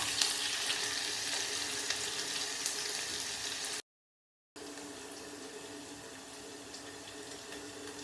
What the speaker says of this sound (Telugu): తాలింపు చేసి తాలింపు దినుసులు అవన్నీ వేసి అవి కొంచెం వేగినాక కరివేపాకు, ఉల్లిపాయ వేసాను.